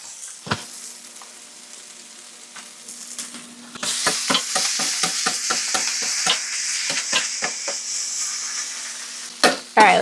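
Asparagus sizzling in melted real butter in a pan, a steady frying hiss with a rapid series of scraping stirs and clatters, close and moderately loud, no talking.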